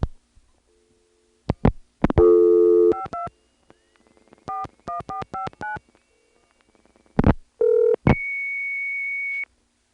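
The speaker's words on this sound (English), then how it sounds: "So now we're going to call it up and send it a nice long 2600 after it answers." A phone line carrying a burst of touch-tone dialing and ring and answer tones, then a long, steady, loud 2600 Hz tone sent down an early-1980s FX line, holding for over a second before cutting off.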